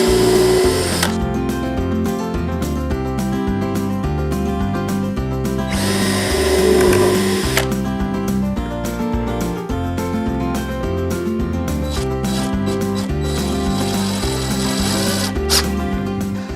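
A power drill drives screws into wood, whirring in short repeated bursts with brief pauses between them, close and loud, with a couple of longer sustained runs.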